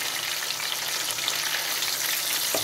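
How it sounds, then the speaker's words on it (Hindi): Fish fries in hot oil in a pan, giving a loud, even, continuous sizzle with a faint knock near the end. "2 मिनट के लिए एक साइड से फ्राई करेंगे"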